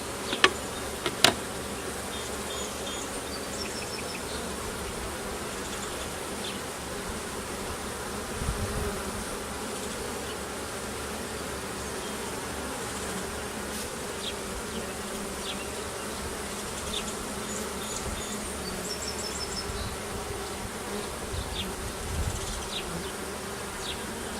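Honeybees drone steadily around an open, queenless hive during a late-May inspection, a continuous close buzz lasting the whole stretch, with a few faint clicks and no talking.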